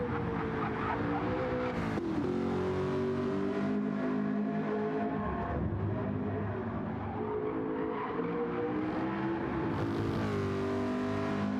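Race car engine from Gran Turismo 7 lapping a sim-racing circuit, a steady sustained drone with shifting pitch as it accelerates, loud and continuous throughout.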